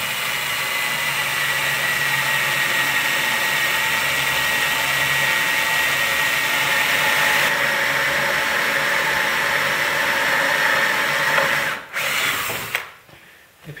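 Power drill boring slowly through wood toward a woodworking vise nut, a steady, loud, continuous whine for about twelve seconds that falters and cuts out near the end.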